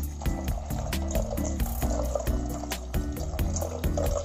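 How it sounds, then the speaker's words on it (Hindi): Water pouring over chickpeas while cooking chole, a steady liquid splash and fill sound running continuously at moderate loudness beneath a rhythmic musical backing. "इसे मैं डालकर थोड़ा सा पानी डाल दूंगी।"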